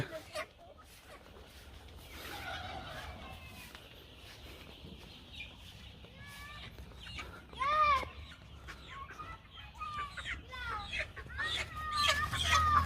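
Golden chickens on a farm, being gathered in fives to load onto a van: repeated sharp clucks and squawks from several birds, some close and loud, scattered over a low background hum.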